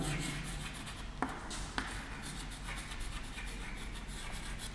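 Marker or chalk strokes on a board during a lecture give a faint, continuous scratchy rubbing over a hissy room background, broken by two small taps.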